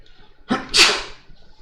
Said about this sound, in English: I am so gonna sneeze